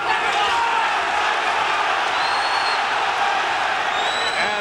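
Boxing arena crowd at a Frank Tate versus Tony Sibson bout, a dense roar of voices and cheering with some applause, sustained and loud throughout.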